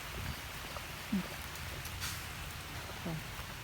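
Heavy morning rain pours steadily outdoors in cool weather, a dense, continuous hiss of drops on surfaces with a couple of brief louder knocks.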